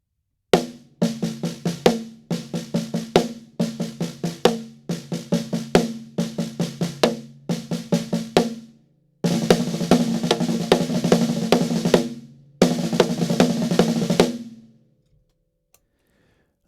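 Drum kit running an inverted five-stroke accented pattern in tight repeating bursts, then speeding into denser rolls before stopping; played up close with no talking.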